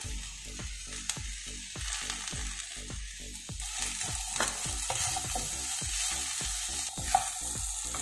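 Chilli chapathi with curry leaves fries in a pan, with a steady sizzle under quick, rhythmic scraping stirs heard close up.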